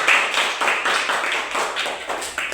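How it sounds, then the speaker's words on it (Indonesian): A small group of primary school pupils claps together in a classroom, a steady burst of applause, close and continuous for a couple of seconds. "kita kasih tepuk tangan untuk kita semua"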